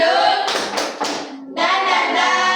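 A classroom of students does the rhythmic 'tepuk semangat' clap, loud bursts of clapping in a patterned sequence with a brief pause before the clapping resumes.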